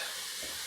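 Spoon stirring paprika, chili powder and salt into browning ground meat in a pan for Tex-Mex lasagna, a short soft scrape over a steady hiss of sizzling fat.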